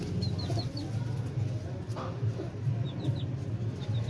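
Pigeons at a pigeon keeper's loft in Lahore, with repeated short chirps and coos over a steady, busy background hum, moderately close and without talk.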